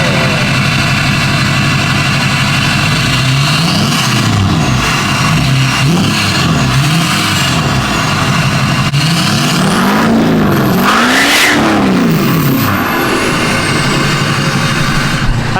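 A Chevrolet Silverado with a 6.2L engine and a trash can fitted over its exhaust revs hard and loud, in repeated rising and falling blasts over a steady rumbling idle, with no talking.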